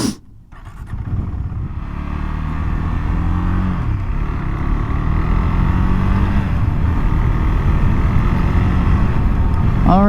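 Motorcycle engine droning close up while riding at speed on a bumpy road, with steady rumble, shifting tones as it accelerates, and wind noise throughout.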